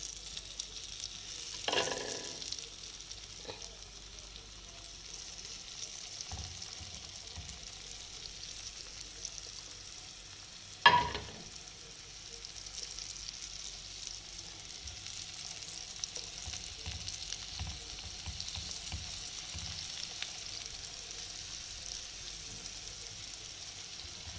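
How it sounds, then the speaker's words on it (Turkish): Zucchini slices frying in hot oil in a pan, giving a steady close sizzle throughout with a couple of sharper splashy bursts as pieces drop in or shift. "Yağımız kızardı. Şöyle kabaklarımızı alıyoruz içerisine."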